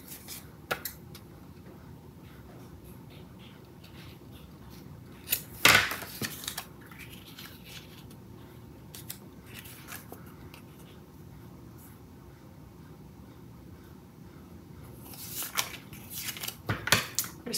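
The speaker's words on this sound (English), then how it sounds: "Just cut just inside." Scissors snip paper for a scrapbook album binder in a few quiet, scattered cuts amid soft handling rustles and light clatter.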